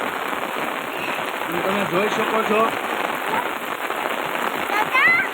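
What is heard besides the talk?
heavy monsoon rain falling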